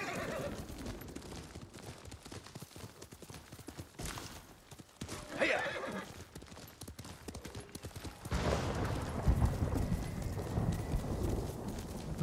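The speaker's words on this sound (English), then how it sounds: "Horse!" Horse hooves clip-clopping and a whinny in the video game Ghost of Tsushima, the hoofbeats steady and moderately loud, growing heavier as the horse speeds up, with no voices.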